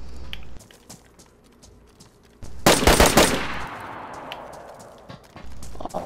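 A close, loud volley of rapid video-game gunshots bursts out for about a second in the middle, trailing into echoing tails, with sparser single shots and quieter movement sounds around it.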